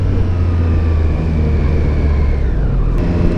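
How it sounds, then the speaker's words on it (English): Triumph Street Triple 765 RS motorcycle under throttle: a loud, steady engine drone with a low rumble and a rising whine as it pulls, close up and without any voices. "Definitely a nice feeling when you put the throttle down."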